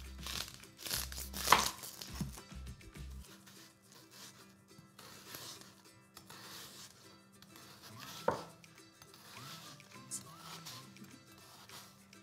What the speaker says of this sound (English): So we're just gonna chop up a little bit of red onion,